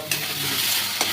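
Ground mustard paste hits a hot pan of oil while mushrooms are cooked, crackling and sizzling steadily throughout, with a scraping stir near the start and another near the end.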